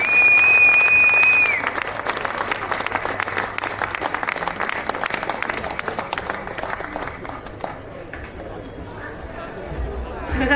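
An audience applauds the Carrivick Sisters at a live show, a dense wash of clapping that starts loud and gradually thins and fades, with crowd chatter underneath.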